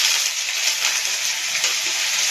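Turmeric and cumin powder frying in a pan, a steady broad sizzle that holds constant and fairly loud throughout, with no talking over it.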